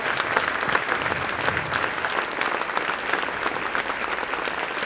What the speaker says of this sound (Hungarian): Még egy nagy tapsot kérünk!